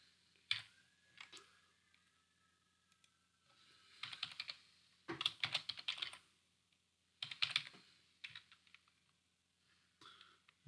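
Typing on a computer keyboard while writing Java code, with quiet clusters of key clicks in irregular bursts separated by pauses, close and soft, with no speech over it.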